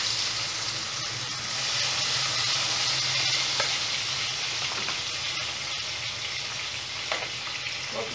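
Tomato frying in oil with a small piece of bacon, a dense, loud, continuous sizzle with occasional spatula scrapes, no talking.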